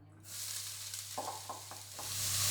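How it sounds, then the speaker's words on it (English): Chopped onions hitting a hot pan for borscht and starting to fry, a bright steady sizzle that swells over a low hum, with a few soft stirring scrapes as it grows louder. "So I'm going to put the onions on."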